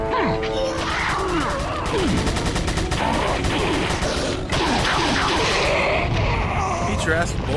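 Rapid, loud gunfire and sharp impact cracks in Resident Evil VR, repeated shots in quick bursts layered with game effects, while someone talks and reacts throughout.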